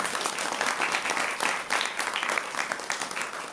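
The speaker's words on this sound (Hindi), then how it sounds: "तो बजाओ ताली।" An audience claps steadily at a spiritual gathering, dense continuous applause at moderate level throughout with no break.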